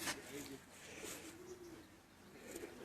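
Black-faced pigeons, a shy-pigeon cross, coo softly in low, repeated phrases, with faint voices and rustling nearby.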